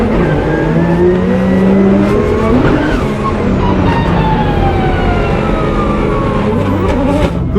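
Drift cars at a Drift Masters event rumble loudly at the start line, with engines revving and rising in pitch over a continuous dense roar that holds steady throughout.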